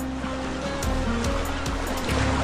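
Waves wash onto a seaside shore in a continuous soft surge, with gentle rhythmic swells rising and falling at a moderate distance and no one speaking.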